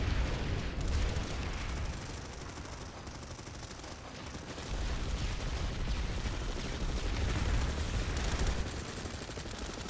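Dense, continuous battlefield din of grenade blasts and gunfire in a PlanetSide 2 infantry fight on a balcony, a loud rumbling wall of overlapping bursts with no clear gaps between them.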